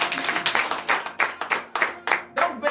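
Congregation at a morning prayer service clapping in a loose, rhythmic pattern of sharp bursts, close and fairly loud, with no talking over it.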